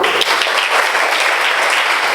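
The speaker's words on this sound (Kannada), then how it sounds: "ನನಗೊಂದು ಚಪ್ಪಾಳೆ ಮೂಲಕ ಕೊಡಬೇಕು." Audience applause at a cleanliness awareness magic show, a dense burst of many hands clapping together, loud and sustained throughout the short stretch.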